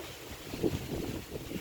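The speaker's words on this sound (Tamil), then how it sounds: "பயங்கரமாக காற்று இழுக்குது" Strong wind blowing outdoors, a continuous loud rumbling gust buffeting the microphone with no voices.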